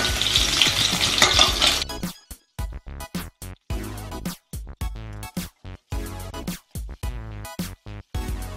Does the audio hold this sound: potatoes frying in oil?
yes